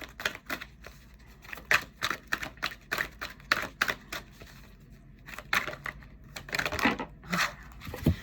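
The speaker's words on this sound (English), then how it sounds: "I feel like I might pull 3 cards" Tarot cards are shuffled and pulled, giving quick clusters of crisp riffling snaps and taps, close and fairly loud, in uneven bursts with short pauses.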